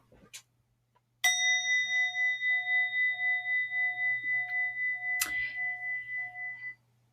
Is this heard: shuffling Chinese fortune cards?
no